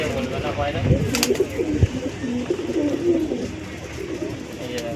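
Pigeons kept at a home coo in low, rolling calls that repeat throughout, close by, with some rustling and light background noise.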